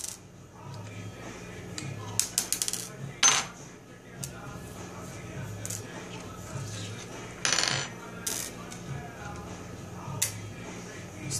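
Small steel parts from a full-size 1911 pistol roll and clatter across an uneven table, with scattered light metallic ticks and a few sharper clinks over a quiet room.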